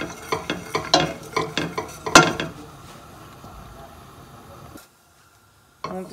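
Cooking oil heats in a pan for lemon and chilli pickle. A run of close stirring and scraping knocks gives way to a soft, steady sizzle, then a short silence.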